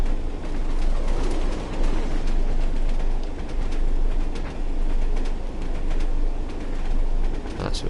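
A train in the game Train Sim World 2 rumbles steadily while approaching Dinsdale station, a continuous loud rolling drone with faint higher clatter throughout.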